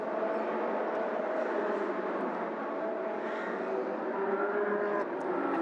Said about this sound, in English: the formation lap is underway